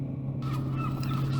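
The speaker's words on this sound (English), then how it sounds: "if the seagulls would shut up and let me speak." Seagulls calling at the seaside in Ireland, loud and close, with repeated honking, squawking cries over a steady low background hum.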